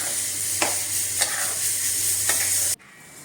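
A spoon stirring sugar into reduced carrot halwa in a hot pan over a steady sizzling hiss, with a few soft scraping strokes, then the sound cuts to quiet near the end.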